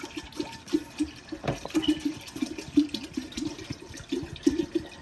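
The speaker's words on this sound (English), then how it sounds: "You just want to pour in the juice, the whole thing." A full 64-ounce jug of juice poured into a Halloween punch bowl, a steady liquid splash and glug running throughout at moderate level with small bursts, no voices.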